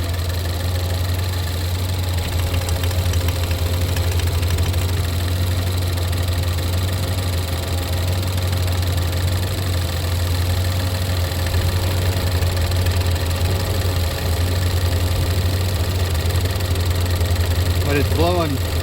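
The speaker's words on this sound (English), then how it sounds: "All right, so the engine is running." A Ford EcoBoost engine with an oil leak idles loudly and steadily the whole time, with a deep continuous rumble and faint rattling vibration.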